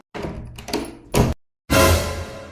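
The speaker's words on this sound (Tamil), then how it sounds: "கதவு உள்ள லாக் பண்ணல, திறந்துட்டு வா." A door is unlocked and pushed open, with scraping and clunking handling sounds, a loud knock-like thump, a moment of silence, then a sustained rush of noise as it swings open.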